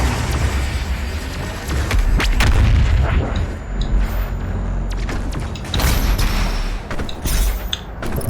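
Heavy blasts and booming weapon fire from the BFG 10,000 in DOOM Eternal, loud and sustained with several big thumping bursts over a rumbling low end, no talk.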